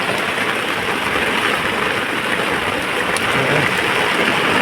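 Heavy rain pours down steadily, a dense, unbroken hiss that stays loud and even from start to finish with no pauses.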